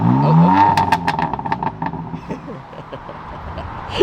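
A 2017 BMW M3 engine revs up sharply near the start, then settles into a rough idle with clattering and scraping noises.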